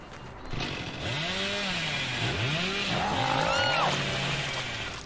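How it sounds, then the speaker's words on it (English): Revving chainsaw from the Hillbilly killer in Dead by Daylight, a loud, continuous buzzing whine that rises and falls in pitch with repeated surges as the saw lands a hit. "Nice, we got a chainsaw hit."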